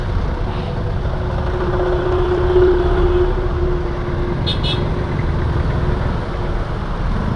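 Heavy road traffic on a route to PITX in Parañaque makes a steady, loud engine drone and rumble. A faint horn-like tone rises briefly midway.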